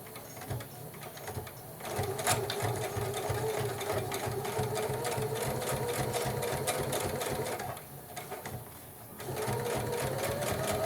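A sewing machine runs in steady rapid straight stitching on an envelope cover, pausing briefly twice before resuming, close and fairly quiet.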